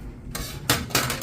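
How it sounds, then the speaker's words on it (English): A small bowl is pulled out in a home kitchen, giving a few close clinks and knocks of dishware against other dishes. "I'm just gonna get a little bowl."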